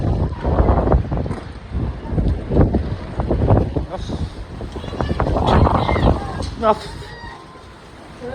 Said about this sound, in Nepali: डर लाग्दो भयो मिरिकमा डर लाग्दो हावा तुफान